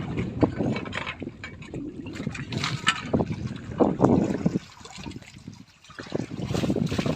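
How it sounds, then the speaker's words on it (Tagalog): Strong river current rushes and trickles around a small fishing boat, a steady watery wash with gurgling swells that rise and dip, close and fairly loud, with no talk. "At ang lakas ng agos."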